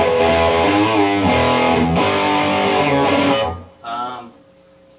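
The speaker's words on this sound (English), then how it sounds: "so that's the distortion channel all the way up." A Peavey Classic 30 guitar amp on its distortion channel turned all the way up, playing loud, thick overdriven electric guitar chords that ring for several seconds, then a brief quieter strum and fade.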